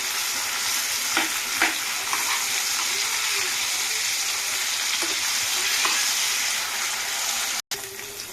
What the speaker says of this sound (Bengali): লাল লাল করে আলু ভাজাগুলো হয়ে গেছে